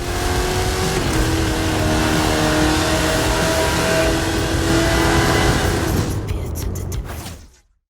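Hot Wheels cars in a video game drag race, engines revving loud and sustained at close range, then fading sharply into silence at the end.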